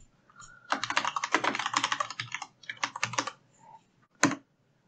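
Computer keyboard keys clatter in quick bursts as a file name is typed, close and crisp with short pauses between runs of keystrokes and one final sharper key press.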